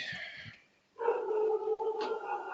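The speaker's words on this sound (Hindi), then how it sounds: "ये कुत्तों ने तो तंग किया हुआ भाई" Dogs bark in the background during an online class, heard as a brief yelp followed by a sustained loud barking or howling burst, fairly close and clear, with no speech over it.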